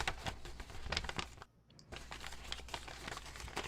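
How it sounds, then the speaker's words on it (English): Swipewrap wrapping is pulled open with dense, close crinkling and crackling rustles that continue with a short quiet gap in the middle. "Yeah, I keep unwrapping."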